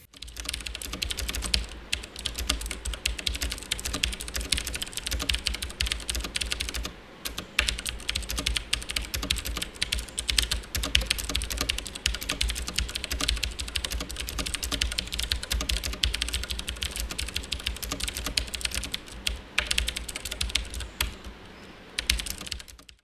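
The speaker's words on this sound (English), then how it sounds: "there are Cherry MX green switches underneath these keycaps. So let's do a quick typing test." Fast, continuous clicking of a WASD V2 87-key mechanical keyboard with Cherry MX green switches, sharp clicky keystrokes close up with only a brief pause.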